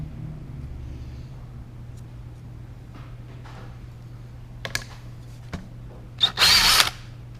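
A power drill bores a hole through a Magnum pocket drill jig, a low steady whir running throughout with a few scattered clicks and a louder burst near the end.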